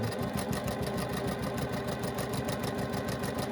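Sewing machine stitching a quilt block, a fast, even, close-up mechanical chatter of needle strokes running continuously without pause.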